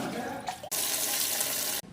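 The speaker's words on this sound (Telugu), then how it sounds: "నీళ్ళు తీసేస్తున్నా" Water poured out of a container while rinsing lining fabric to test colour bleeding, a steady close splashing gush lasting over a second after a brief earlier trickle, with no talking.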